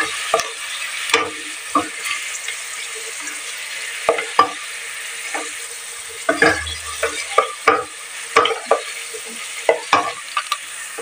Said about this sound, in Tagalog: Iprito muna natin ang labanos.